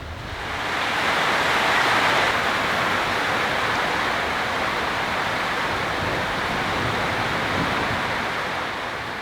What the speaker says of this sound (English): How do you feel about the rain?